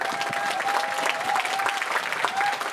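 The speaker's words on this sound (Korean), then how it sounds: "큰 박수가 있었습니다." Wedding guests at a traditional Korean ceremony give a big round of applause, a dense, even wash of many hands clapping steadily throughout, moderately loud with a faint tone running underneath.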